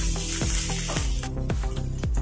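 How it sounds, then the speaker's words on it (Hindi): Coarsely pounded ginger garlic paste frying in hot oil for a bitter gourd curry, with a steady close sizzle and several soft scraping strokes of a stirring spoon through the pan. "अदरक लहसुन का पेस्ट भी अच्छे से भुन गया है तेल में"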